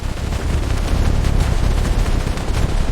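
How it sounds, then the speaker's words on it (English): Dense, continuous German machine gun fire on Omaha Beach at D-Day landing, loud rapid bursts overlapping into a roaring barrage with heavy low rumble, no voices. "The silence was shattered by German machine gun fire."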